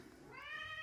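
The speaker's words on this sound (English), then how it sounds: "Pardon the cat meow." A single rising cat meow, close and fairly quiet, heard indoors during a sewing session with no talking over it.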